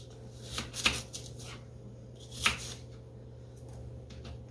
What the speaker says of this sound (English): So what I'm going to do is I'm just going to slice it.